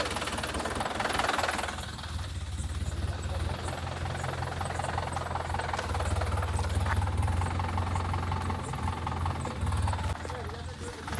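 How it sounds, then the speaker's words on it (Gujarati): A tractor's diesel engine chugs and knocks steadily nearby on a farm the whole time, with voices faintly audible over it. "તો ટ્રેક્ટર અત્યારે અંદર એન્ટર થાય"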